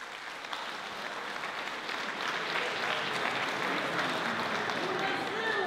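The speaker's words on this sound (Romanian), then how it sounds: "Aplauze, vă rog!" A village crowd at a Romanian Lăsatul secului celebration in Chiuzbaia applauds steadily, a dense, even wash of clapping that swells slightly and holds at moderate distance, with no talking over it.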